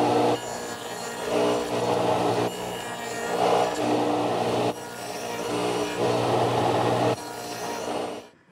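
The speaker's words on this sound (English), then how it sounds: "And we'll do that at the radial arm saw." Radial arm saw fitted with a stack dado blade cutting angled notches in wood, heard as several sustained loud whining cuts separated by brief pauses, with no talking.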